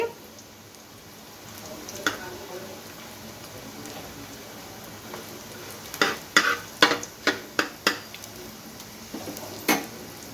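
Oil sizzles steadily in a pan, with a quick run of sharp crackles and pops near the end as tempering spices hit the hot oil beside frying bitter gourd.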